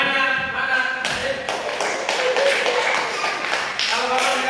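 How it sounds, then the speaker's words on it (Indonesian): Audience of adults clapping hands during a classroom gymnastics lesson, a steady patter of claps with a few sharper bursts and an instructor's voice talking over it. "Tepuk tangannya mana?"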